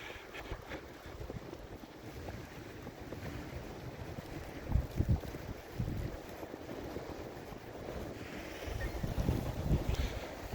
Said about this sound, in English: Turn around and face the wind.